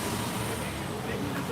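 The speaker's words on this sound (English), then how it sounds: "But these trucks are so loud." Loud trucks rumbling through city street traffic in New York, a dense continuous roar of engines and road noise filling the short moment.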